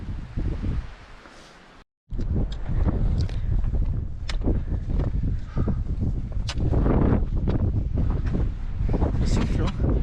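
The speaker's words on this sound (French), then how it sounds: "ça commence à faire un peu froid avec le vent. Ça souffle bien." Strong gusty wind on a mountain near the Zumsteinspitze buffets the microphone in loud, rough bursts, with a brief drop-out and voices faintly underneath.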